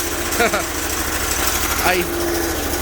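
A Bolens 1600H hydrostatic garden tractor idles with a steady low drone while its hydraulics strain against the engaged brake, and someone talks briefly over the engine noise.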